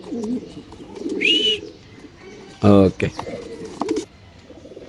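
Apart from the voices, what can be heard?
racer pigeons cooing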